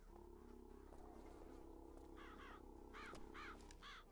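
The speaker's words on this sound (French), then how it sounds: "Ouais, effectivement, je vois des corbeaux partout." Crows caw repeatedly in the video game Bioshock Infinite, with several harsh calls in short bursts over a steady low droning ambience, growing louder toward the end.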